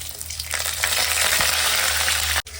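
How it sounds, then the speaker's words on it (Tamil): Mustard seeds and dried chillies crackle and sizzle in hot oil, a loud, dense, continuous hiss with faint popping up close, cut by a brief dip near the end. "கடுகு போட போகிறேன் கடுகு போட்டாச்சு காஞ்ச காஞ்ச மிளகா"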